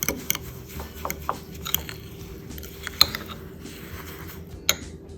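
Egg yolks and sugar whisked by hand in a bowl for a creme brulee, heard as quiet, uneven clinks and scrapes with a few sharper taps, close by and with no talking.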